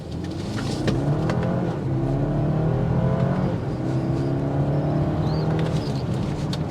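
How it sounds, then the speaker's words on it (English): A 2023 BMW X3 sDrive 30i in sport mode accelerates hard from a standstill toward 60 mph, its engine note climbing steadily through rising gear sweeps with shifts, loud and continuous inside the cabin, no talking. "Taking the 2023 BMW X3 sDrive 30i out. We have it in sport mode. We're going to see that 0 to 60 at 6 seconds."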